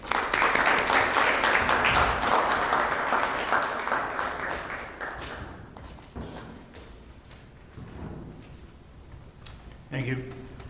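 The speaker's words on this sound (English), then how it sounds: "Let us recognize his leadership with a round of applause." Audience applause at an award ceremony for winners of a Miami contest, a steady round of clapping that swells, then gradually thins into scattered claps before a voice begins speaking.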